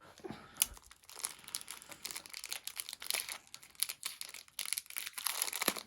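Crinkly plastic packaging around a bronze or brass Ganesha statue being crumpled, torn and cut open with a knife, a steady run of close rustling, crackling and tearing with no talking.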